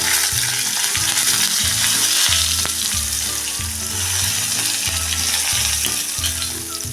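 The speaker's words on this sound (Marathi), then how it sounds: "कढीपत्ता बघा थोडा परतून झाला" Mustard seeds, asafoetida and curry leaves frying in hot oil, a loud continuous sizzle and crackle with a few sharp pops, close and steady with no talking.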